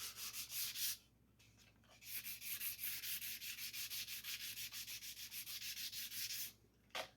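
Wet sanding with 600 grit paper on a 1951 Chevy truck dash gives a close, fast rhythmic rasping of quick back-and-forth strokes, pausing briefly twice, with no talking.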